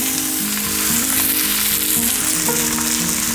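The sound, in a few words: lo mein noodles sizzling as they go into the hot pan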